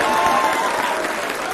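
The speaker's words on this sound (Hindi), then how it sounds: "बुलडोजर पर तालियां बज रही हैं" A television studio audience claps continuously in a dense, even burst of applause during a Hindi news debate, with faint voices mixed under it.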